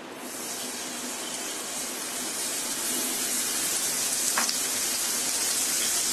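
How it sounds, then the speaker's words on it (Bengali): Two tablespoons of ginger garlic paste go into hot frying oil while kofta kebab is being cooked, giving a steady, close, broadband sizzle that hisses on without pause and no voices. "এখন এই তেলের মধ্যে দিয়ে দিচ্ছি 2 টেবিল চামচ আদা রসুন বাটা,"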